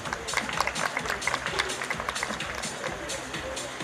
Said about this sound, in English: So they really deserve your applause.